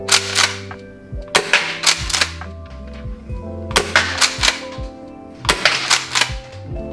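A Tokyo Marui KSG airsoft shotgun set to six shots fires several loud, sharp cracks in quick clusters, each burst followed by mechanical clacks of the pump action, close by with no talk.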